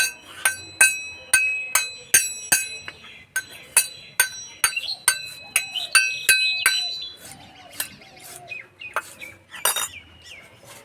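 A metal spoon strikes a bowl over and over in a quick, uneven rhythm of bright, ringing clinks close by, with faint vocal sounds in the background.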